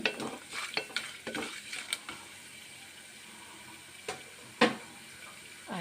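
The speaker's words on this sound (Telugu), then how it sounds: "ఇప్పుడు ఆయిల్లో వేసుకుందో ఆయిల్లో కొంచెం ఫ్రై చేసుకుందాం" Whole garam masala frying in oil for pudina rice, a low sizzle behind quick scraping and clattering stirs, busy at first and then sparse, close and fairly quiet.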